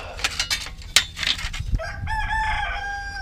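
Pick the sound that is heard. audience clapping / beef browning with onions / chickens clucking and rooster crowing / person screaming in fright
chickens clucking and rooster crowing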